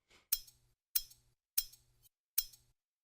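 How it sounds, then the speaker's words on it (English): Four synthesized sword swing effects in an even rhythm, each a sharp airy whoosh ending in a small metallic clink, clean and isolated with silence between. "so this is just gonna be the sword sound."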